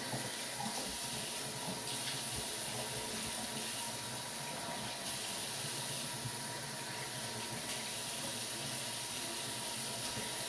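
Lukewarm tap water runs steadily into a sink, a continuous close hiss and splash that stays even from start to finish with no voices.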